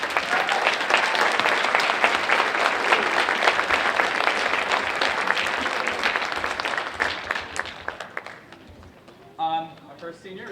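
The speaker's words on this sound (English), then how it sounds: "Give a big clap for them" A school audience at a middle/high school production of Cinderella applauds seniors receiving flowers. Thick, sustained clapping fills the room for several seconds, then tapers off as a voice and some tones come in near the end.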